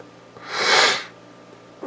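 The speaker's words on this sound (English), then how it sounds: "I got sniffles today." A single sharp nasal sniff or sneeze-like burst of breath, close and clear, rising and fading in under a second against quiet background.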